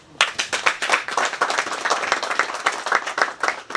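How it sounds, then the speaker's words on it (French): An audience breaks into brisk applause at a formal gathering, individual claps sharp and close within a dense, lively patter that starts abruptly and stays steady throughout. "Et je voudrais que vous applaudissiez ça."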